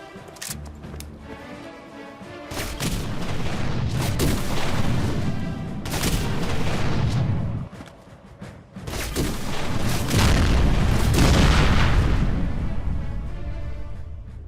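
Mini nuke blasts in a modded Fallout 4 session, a series of heavy booming explosions with deep rumbling tails, loud and close, spaced a few seconds apart and rolling into sustained thunder.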